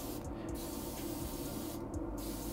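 Spray coating applied to a police revolver during restoration: a close, continuous aerosol hiss with brief pulses as the spray passes over the part, and no voices.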